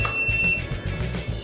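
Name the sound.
DG 750 digital keypad beeping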